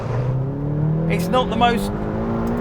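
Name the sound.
McLaren GT engine revving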